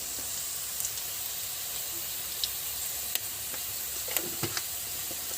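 Onions frying in oil in a kalai while salt goes in, a steady soft sizzle with occasional sharp pops and crackles, close and even throughout, no talk.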